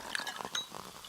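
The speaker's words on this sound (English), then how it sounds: "Listen to that endless pour." Pepsi Zero Sugar cola poured in a close, bright liquid splash with small clinks and fizzy crackle, filling a short moment on its own without voices.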